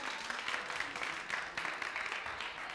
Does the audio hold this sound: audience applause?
yes